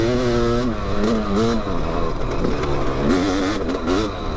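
A Yamaha YZ500 two-stroke dirt bike engine revs loud and close, its pitch climbing and falling through repeated throttle blips over a raspy, buzzing idle.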